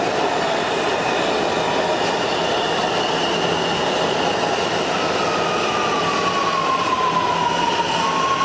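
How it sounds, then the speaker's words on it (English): A Washington metro subway train runs at speed with a loud, continuous roar heard from inside the car, rumbling wheels and a rising then falling squeal in the later part. "I rode the metro."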